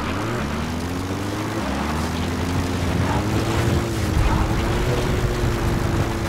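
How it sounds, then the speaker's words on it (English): A droning rotor and engine sound holds steady and rises slightly in pitch, a support helicopter approaching in Metal Gear Solid on PS4, loud and continuous with no voices. "The support helicopter requested."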